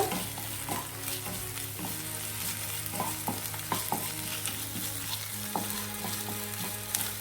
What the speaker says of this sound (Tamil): இஞ்சி பூண்டு பேஸ்ட் ஆட் பண்ணி நல்லா பச்சை வாசனை போகிற வரைக்கும் வதக்கி விட்டுக்கோங்க